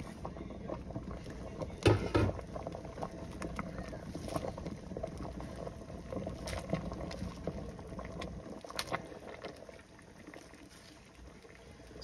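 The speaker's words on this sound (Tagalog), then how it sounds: "So buksan na natin, kulong-kulo na siya." A pot of sinigang na tuna broth at a rolling boil gives a steady bubbling, simmering noise, close and moderately quiet, with no voices.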